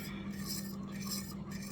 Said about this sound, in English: Stir this around just a little bit.